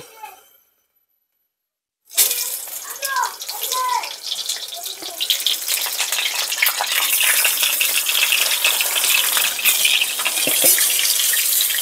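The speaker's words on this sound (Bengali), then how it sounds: "এবার কড়াই বসিয়ে দিয়েছি, কড়াই দিব তেল। পটলগুলোকে আমি আগে হালকা ভেজে নেব।" Pointed gourd (potol) fries in oil in a wok, a sudden, steady hissing sizzle that starts after a short silence, with a brief voice early on.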